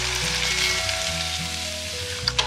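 Water poured into hot, well-fried spiced masala with Kashmiri chilli powder for village-style Bengali tel koi, giving a steady, close sizzle with faint music playing underneath.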